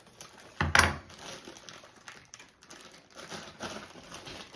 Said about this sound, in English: And get this bag cut open.